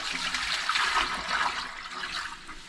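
A small toilet in a handmade tiny house flushes with a steady rushing gush of water that swells and fades over a few seconds, close by and without speech.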